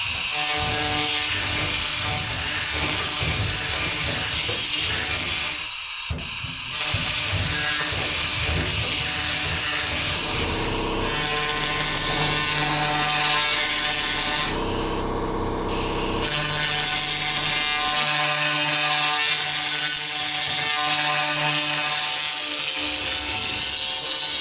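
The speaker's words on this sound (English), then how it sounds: "use my magic laser machine and clean that up" A laser rust-cleaning machine strips flash rust from a steel hull plate, producing a loud continuous buzzing, crackling hiss with steady whine tones, briefly pausing twice before resuming.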